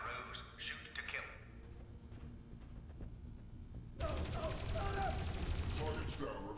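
Gunfire in the video game Dreamfall Chapters, a dense burst of rapid shots that swells loud in the second half after quieter sounds, with game voices talking over it.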